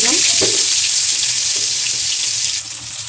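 Chopped onions sizzle in hot oil in a wok, a steady close hiss of frying with a few brief clatters near the start.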